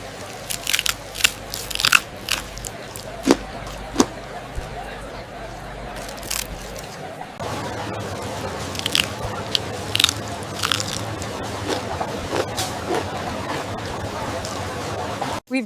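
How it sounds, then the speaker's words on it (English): Crispy seasoned shrimp are bitten into close to the mic, giving sharp crunches and crackles in quick succession, followed by steadier chewing and crunching under a denser background. "That is perfectly crispy and seasoned. You guys have to try the shrimp."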